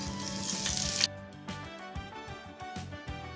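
Dried red chillies and curry leaves hitting hot oil in a pan while tempering for palak keerai masiyal, giving a bright, hissing sizzle that cuts off abruptly, then softer crackles and pops with background music.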